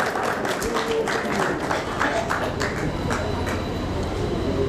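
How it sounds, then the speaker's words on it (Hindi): Audience applause at a memorial gathering, mostly from the women present, a steady crackle of many hands clapping that stays fairly even for several seconds. "तालियां महिलाओं की ओर से बजी हैं।"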